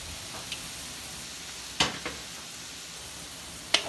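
Vegetables and carrots stir-frying in a pan, a steady soft sizzle with a few sharp clicks of a utensil against the pan.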